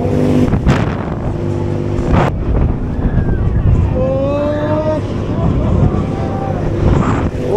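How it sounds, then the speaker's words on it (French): Wind rushes past riders on a spinning fairground ride at the Foire Saint-Romain funfair in 2025, a loud, steady roar throughout with thin whistling tones and voices shouting over it. "Par contre ça fait toujours autant de vent."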